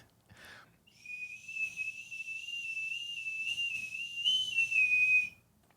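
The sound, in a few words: whistle instrument being played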